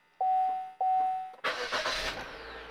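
Two short electronic beeps sound, then a car engine with a hidden immobiliser cranks and catches, settling into a close, steady idle.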